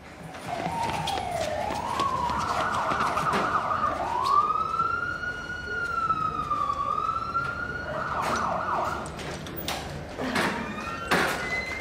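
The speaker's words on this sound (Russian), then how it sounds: "Скорая подъезжает." An ambulance siren wails in long rising and falling sweeps as the vehicle approaches, fairly loud and steady, with faint background noise and no talk.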